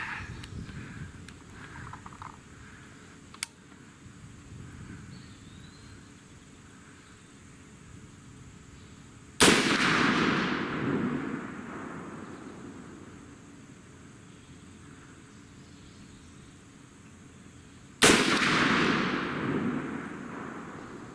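Two sharp, loud rifle reports from a .50 Beowulf or 6.5 Grendel, spaced several seconds apart outdoors, each cracking suddenly and ringing off into a long fading tail over quiet background.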